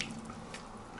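Water runs steadily from a bathroom sink faucet with good pressure, a soft continuous hiss with light splashing, fairly quiet and without speech.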